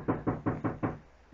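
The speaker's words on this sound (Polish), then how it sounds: "Ktoś tu puka." Five evenly spaced knocks on the door of an abandoned hut deep in a forest, firm and close, followed by a short quiet pause.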